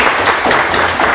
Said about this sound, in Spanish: ¡Fuerte el aplauso para recibir a Darío Murcia!